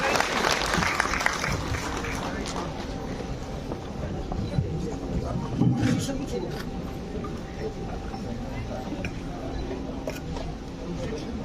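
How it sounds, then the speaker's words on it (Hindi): Audience applause fills a large hall as a chief guest, the Lieutenant Governor of Delhi, is welcomed onto the stage at a cultural event; steady clapping runs throughout at a fairly loud level, with a voice speaking briefly over it. "जोरदार तालियों से एक बार स्वागत किया जाए"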